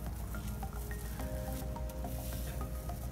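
Charcoal bubble face mask foaming on skin, a soft close-up crackle of tiny bubbles popping and crunching, faint and fizzy with scattered little pops over a quiet background.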